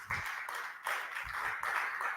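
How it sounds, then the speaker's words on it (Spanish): Church congregation clapping in a steady burst of applause, loud and close, with rhythmic claps running through the whole moment and no talking over it. "¿Cuántos aplauden su nombre?"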